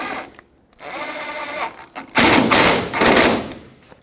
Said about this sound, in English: holding the tailgate to relieve pressure off of this bolt, snug it up